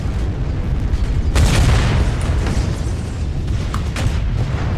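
Mech weapons fire in MechWarrior Online during a match piloting a Wolverine medium mech, heard as loud, dense booming blasts over a continuous low rumble, with a sharp explosive burst standing out in the middle.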